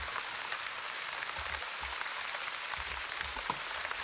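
Steady rain in the village-building video game Wandering Village, a constant even hiss of falling drops with no talk, loud and unbroken throughout.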